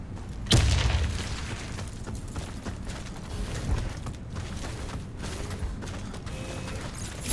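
In the Warface video game, a grenade bursts with a sharp boom near the start, followed by rumbling, creaking mechanical game sounds and scattered clatter at a moderate level.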